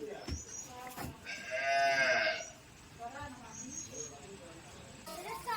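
Plough bullocks at a Konkan village homestead give a long, close, drawn-out moo in the middle, with shorter lowing calls around it and someone speaking quietly nearby.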